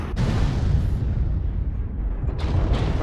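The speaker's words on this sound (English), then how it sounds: "What's that airstrike?" Airstrike explosions in a video game roll together into a loud, continuous heavy rumble of booms that lasts the whole stretch, with a sharper burst near the start and another near the end.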